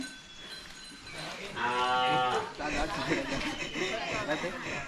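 A two-year-old bull lows once with a drawn-out, harmonic call amid noisy outdoor commotion in Konkan, while people shout and talk nearby.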